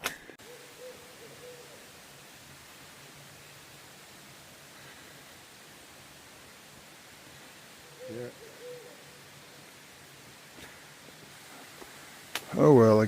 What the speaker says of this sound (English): I guess I'm not gonna hear the owl hoot anymore